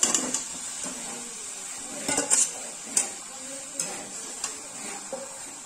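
Large chicken pieces stir-fried in a pan for restaurant-style chicken chaap, a continuous sizzle under repeated metallic spatula scrapes and clinks, close by.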